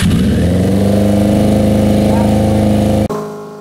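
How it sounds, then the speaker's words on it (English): A motorcycle-type engine with synchronized carburetors runs loud and close with a steady, throbbing idle, then cuts abruptly near the end before a brief restart. "All right, let's go ahead and fire it up."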